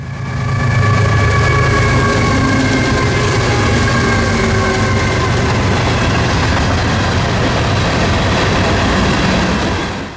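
An FEC freight train carrying a cut of intermodal cars alongside mixed freight rolls past at close range near a yard, a loud, steady rumble of wheels and engine with sustained tonal hums throughout.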